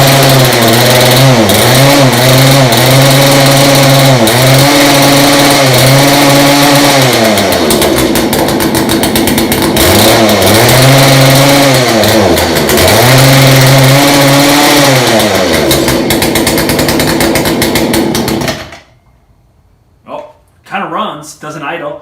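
An old two-stroke chainsaw engine, built into a garbage can, catches and runs loud and close for about eighteen seconds, its pitch surging and sagging in uneven revs before it cuts out, followed by a few faint knocks in near silence.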